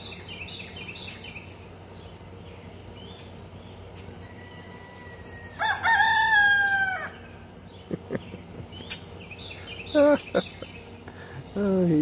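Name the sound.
rooster crowing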